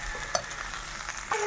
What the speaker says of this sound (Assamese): অলপ সময় ভাজি লওঁ নেকি